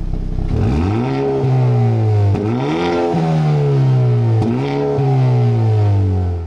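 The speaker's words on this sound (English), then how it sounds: "now take a listen to the first sport mode for the exhaust." 2022 Hyundai Elantra N exhaust in its first sport mode, revving hard from close by through two quick upshifts with sharp breaks between pulls, a loud continuous growl with no talk over it.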